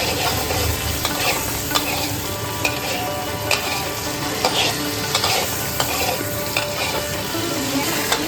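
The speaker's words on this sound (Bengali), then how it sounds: "এবার কড়াইয়ে সামান্য একটু তেল দিয়ে আগে থেকে নুন হলুদ দিয়ে মাখিয়ে রাখা চিংড়িগুলো দিয়ে দেব।" Prawns coated with salt and turmeric sizzle in a little oil in a wok, giving a constant, close frying hiss broken by regular scrapes and stirs of a spatula.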